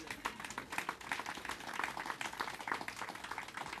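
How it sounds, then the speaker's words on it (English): Audience applause for the Brown family at a gathering, a dense steady patter of many hands clapping throughout, moderately loud and sustained. "I want you to give the Brown family a round of applause."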